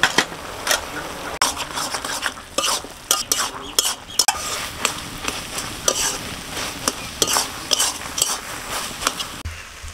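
Leafy greens being stir-fried with salt and turmeric: a utensil scrapes and clinks repeatedly against the pan over a soft sizzle, in an irregular close rhythm.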